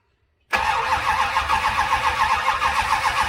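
A flooded Dodge Charger 440 Mopar V8 with new ignition bursts into life after silence, then settles into a loud, steady, rumbling run with a rhythmic lope.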